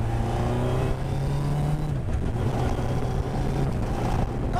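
A Westfield Hayabusa sports car on a test drive, its engine droning steadily at cruising revs with a low humming tone and road and wind rush, heard from inside the car without a break.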